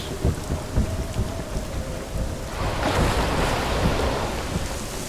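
Ocean waves roll and crash in the video game Hellblade: Senua's Sacrifice, a dense, continuous roar of surf and wash with low rumbling thuds, steady and fairly loud throughout with no voices.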